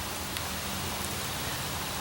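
Rain falling outdoors in the woods makes a constant, close hiss with soft drops pattering over it, steady for the whole stretch.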